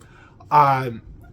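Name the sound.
cat meowing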